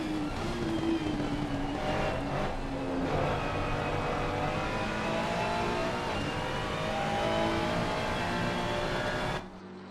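Aston Martin and Ferrari race cars lapping the Zolder circuit in a sim racing game, high engine whine rising and shifting steadily under continuous tyre and wind roar, loud and close throughout before cutting off abruptly at the end.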